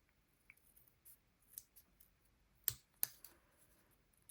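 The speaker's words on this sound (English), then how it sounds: "I've got some really thin scissors, so I'm just going to trim those edges." Quiet, sparse snips and clicks of thin scissors trimming paper card edges, with two sharper snips standing out in an otherwise hushed room.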